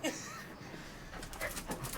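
A large foster dog pants softly nearby, with a few thin, high whimpers rising over the quiet breathing in a calm indoor room.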